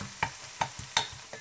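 Potatoes sauté in a pan for a potato stew, with a faint sizzle under a few distinct spoon-scrape clicks spaced across a short moment.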